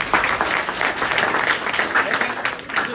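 Crowd at a protest applauding the police, a dense burst of clapping from many hands sustained for a few seconds, fairly close and loud.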